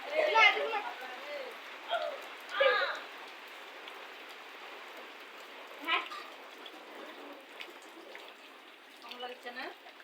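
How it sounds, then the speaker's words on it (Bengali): Heavy rain in a village keeps up a steady, soft hiss in the background while people talk intermittently over it. "দুদিন ধরে খুব বৃষ্টি শুরু হয়েছে।"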